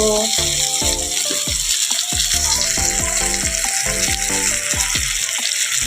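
Malabar spinach (pui) stalks go into a pan of frying eggplant and potato, which sizzles steadily and loudly, while a harmonic tonal sound, likely background music, plays throughout.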